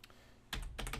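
Keystrokes on a computer keyboard while entering a username: a faint patter at first, then a louder burst of rapid, close clicks with a short pause partway through.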